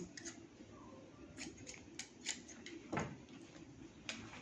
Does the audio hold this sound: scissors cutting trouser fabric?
yes